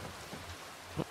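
Steady rainfall in the video game Red Dead Redemption (RedM), a soft, even hiss heard faintly and alone, with a slightly louder patter near the end.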